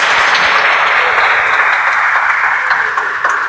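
Church congregation claps together in a brief, loud burst of applause that stays dense and then eases slightly near the close.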